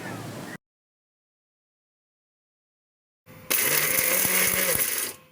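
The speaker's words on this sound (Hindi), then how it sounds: "इसे मिक्सर ग्राइंडर में डालकर हम लोग एक पेस्ट के रूप" A mixer grinder whirs loudly while grinding cooled masala into a paste, starting abruptly after a long silence, close and harsh for about two seconds before cutting off.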